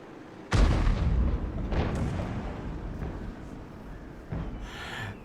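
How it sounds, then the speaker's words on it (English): Tank cannon shots fire at a Russian tank in a tank video game: three heavy booms, the first and loudest, each trailing into a rumbling decay. "I shot at a Russian tank."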